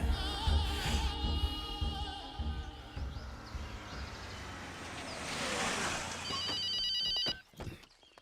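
A telephone rings in a tense Hindi-dubbed film scene, its repeated electronic trills carrying over a busy, rumbling background that fades away before the ringing ends.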